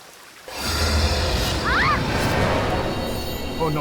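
Loud, steady rush of a waterfall, broadband and continuous from about half a second in, with brief higher tonal chirps over it; close and dominant.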